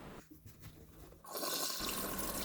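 Water gushes and drains from a soggy, soaked mushroom substrate tub, starting as faint trickles and dripping, then swelling into a loud, steady rushing pour that runs to the end.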